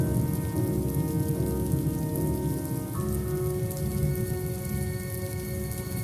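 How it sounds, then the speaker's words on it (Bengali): Heavy monsoon rain pours down steadily as a cartoon sound effect, a dense, loud, unbroken wash of drops with faint musical tones underneath, no voices. "বৃষ্টিটা দেখছি আরো বাড়ছে। আষাঢ়ের বৃষ্টি সহজে কমে না।"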